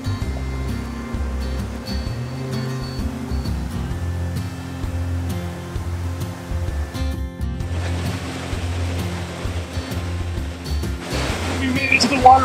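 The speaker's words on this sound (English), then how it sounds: "Eaton Canyon Falls is a great 40-foot waterfall" The 40-foot Eaton Canyon Falls in Pasadena gives a steady rushing wash of falling water that swells louder in the second half, with people talking over it.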